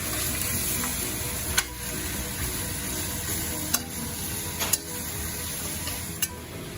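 Oxtail meat for kare-kare sizzles steadily in a pan while it is stirred, with a few sharp scrapes and clinks of the utensil against the pan breaking through the constant frying hiss.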